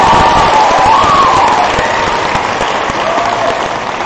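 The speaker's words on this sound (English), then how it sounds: "Yes, please take a round of applause." Loud round of audience applause at a school ceremony, dense steady clapping with some cheering and a whistle near the start, slowly tapering.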